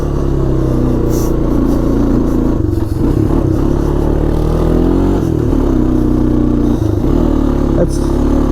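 Honda ATV engine, a Foreman 400 or FourTrax 300, runs steadily and loud off road while shifting up through the gears, with rev changes and clatter throughout.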